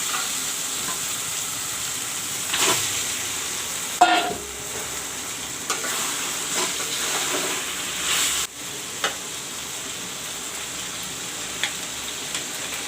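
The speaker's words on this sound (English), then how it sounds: "I will let the chicken fry along with the masalas for a little while." Chicken fries with masala in a pan, giving a steady, close sizzle with occasional stirring clatters and scrapes and no talking.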